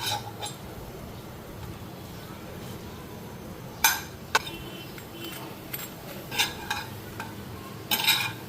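Bread fries in refined oil on a tawa with a faint, steady sizzle, broken by a few sharp clinks and scrapes of a utensil against the pan.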